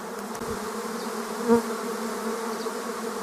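A swarm of bees buzzes in an even, sustained drone near an apiary in Tetiiv, with one bee passing close and loud midway.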